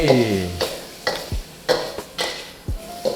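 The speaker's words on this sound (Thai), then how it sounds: "เราก็เริ่มใส่กระเทียม ซึ่งเป็น กระเทียมที่เราซอยมาแล้วนะครับ จะผัดแบบนี้ให้" Sliced garlic is stir-fried in a pan with a few distinct scraping stirs of a utensil over a soft sizzle, close and fairly loud, with low background hum and no talk.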